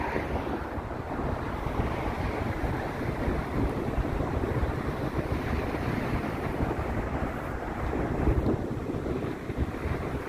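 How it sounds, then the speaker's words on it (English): Strong wind on the Toronto lakeshore buffets the microphone in a continuous low rumble, steady and loud for the whole stretch with no voices. "A little windy, but we're dealing."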